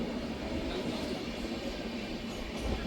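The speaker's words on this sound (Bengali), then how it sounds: "ট্রেন লিলুয়া স্টেশন অতিক্রম করছে।" Poorva Express rolling through Liluah station on the Howrah to Asansol line, a steady, loud, unbroken rumble and rattle of the train running along the tracks, with no talking.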